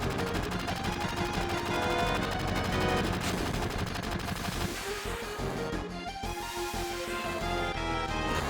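Dense, continuous gunfire above the player in Final Fantasy VII, rapid bursts layered over the game's music, loud and unbroken for several seconds with a brief dip midway.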